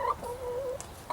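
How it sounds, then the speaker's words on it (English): Backyard hens, including a speckled Sussex and buff Orpingtons, clucking close by in a garden, with a sustained tonal cackle and soft calls over quiet background. "Having a closer look at my chickens."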